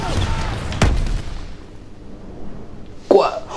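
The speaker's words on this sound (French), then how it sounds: "La grenade elle a touché un allié." A grenade blast in a war video game, one sharp boom followed by a decaying rumble, then a second loud impact near the end, with quiet background in between.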